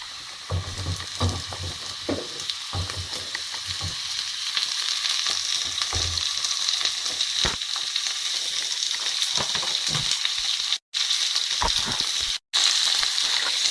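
Capsicums frying with onions in a pan for chilli paneer, a steady bright sizzle with occasional stirring scrapes and brief louder crackles, close and continuous.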